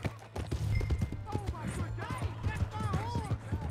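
In Red Dead Redemption 2, a horse's hooves clop in quick succession beneath music and murmuring voices, a busy, moderately loud game scene.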